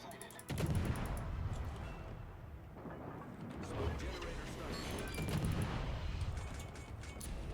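Gunfire from the Z-42 in a video game, a burst of sharp shots starting early and continuing in rough clusters over a steady dense background, loud and close with a voice talking over it.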